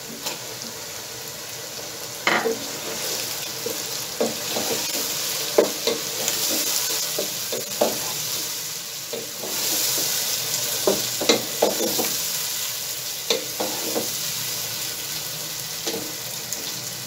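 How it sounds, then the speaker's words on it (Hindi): Chicken with half a kilo of chopped tomatoes stirred in a pan, a continuous moist sizzle broken by frequent clinks and scrapes of a spoon against the pan, with no talking. "इसको थोड़ा सा ऊपर नीचे करेंगे और इसके साथ फिर हम इसमें टमाटर ऐड कर देंगे"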